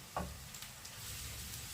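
Vegetables and mushrooms sizzle steadily in a hot pan on high heat, with a brief scrape of stirring at the start and a constant crackling hiss.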